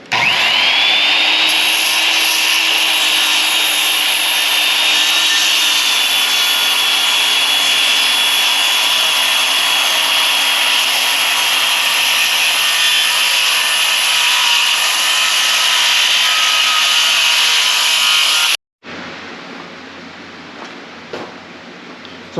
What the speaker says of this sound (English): we'll go ahead and cut it the rest of the way on this side of the line